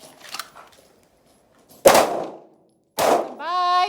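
Handgun shots at a ladies' shooting class, two sharp loud cracks about a second apart, each followed by a short ringing tail, with faint talk and a brief tonal ring near the end.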